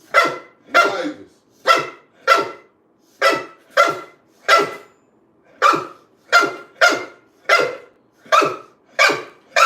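A bully-breed dog barks repeatedly in an even rhythm, about a dozen sharp, close barks with short gaps between them and no talking over them.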